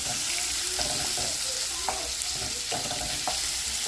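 Chorizo fries in a pan for tacos, giving a steady close sizzle with a few soft scrapes and taps of a utensil moving the meat.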